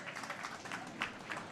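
Distant applause ripples through a curling rink after a game on one sheet ends, soft scattered clapping at low volume that rises and falls in brief waves.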